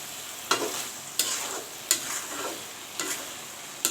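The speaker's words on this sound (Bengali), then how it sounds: "আমি এখন আলতোভাবে একটু নাড়াচাড়া দিয়ে দিব" Small-fish curry (chochchori) being gently stirred in a pan, with five distinct scraping strokes roughly every 0.7 seconds over a steady low sizzle, close and clear with no talking.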